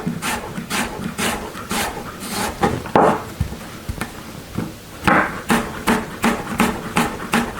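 A knife cuts an apple into fine matchsticks on a cutting board, producing a close run of crisp, evenly paced chopping taps, with a short irregular patch midway and no talking.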